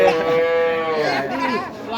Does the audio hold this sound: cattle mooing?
yes